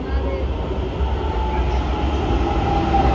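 A Pune metro train runs with a steady, loud rumble and a rolling hum that fills the whole stretch, with no breaks or clear clicks, heard from close by.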